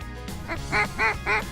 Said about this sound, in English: There's a lot of pintails out here. You gotta sort through the pintails and the mallards.